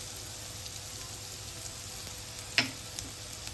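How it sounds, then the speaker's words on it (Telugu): Tomato and turmeric masala fries in oil in a pan for a spicy boti fry, giving a soft, steady sizzle with a single sharp clink of a utensil partway through. "ఇదంతా పచ్చివాసన పోయేంత వరకు ఇది కూడా మనం మంచిగా నూనెలో ఫ్రై చేసుకోవాలి."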